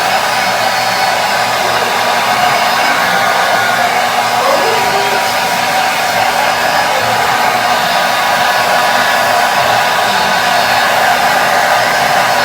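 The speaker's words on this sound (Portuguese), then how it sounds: "eu tive que ligar o ventilador" An electric fan runs indoors in a home, a loud, constant close whir of moving air that holds steady without pause.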